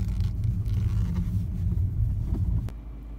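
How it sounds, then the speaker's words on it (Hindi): A car with a newly replaced timing belt and alternator belt pulls over to the roadside, a steady low engine and road rumble that drops off sharply near the end as it slows. "तो थोड़ा साइड में लगा लेते हैं गाड़ी,"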